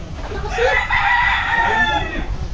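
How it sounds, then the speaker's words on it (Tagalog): A rooster crows loudly and close by, one long drawn-out call lasting most of the clip over a noisy background. "Tandang Nangingigas talaga."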